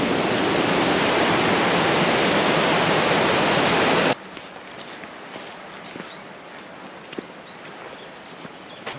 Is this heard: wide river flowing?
yes